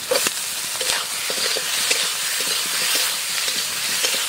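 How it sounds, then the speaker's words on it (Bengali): Potatoes are sautéed with turmeric, salt and spices in a pan: a steady close sizzle and hiss with scattered scrapes and taps of a stirring spoon, and no one speaking. "আলু দিয়ে দেবো আলুটা মশলার সাথে একটু কষাবো"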